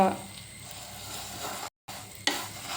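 Kunafa pastry shreds fry in hot butter in a pan, giving a steady, fairly quiet sizzle with soft stirring scrapes and a brief gap partway through.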